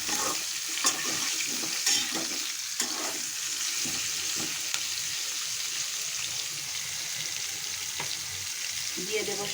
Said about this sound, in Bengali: মিষ্টি কুমড়াটা একটু ভেজে নিচ্ছি।